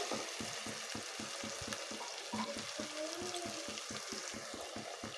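Cashews frying in oil for a chicken curry, a steady close sizzle with rhythmic stirring scrapes repeating through, and a faint brief tonal sound partway.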